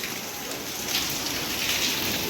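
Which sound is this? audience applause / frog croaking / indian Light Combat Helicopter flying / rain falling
rain falling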